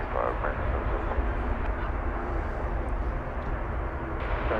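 Airbus A321neo of American flight 3277 at DFW Airport, bound for Salt Lake City, gives a steady, loud jet engine roar with broad low rumble, continuous and unbroken throughout.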